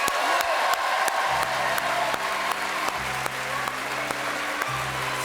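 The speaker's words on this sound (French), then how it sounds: "Applaudissements." A television studio audience applauds warmly during a French variety show, dense sustained clapping that fills the room. A low musical tone enters beneath it partway through.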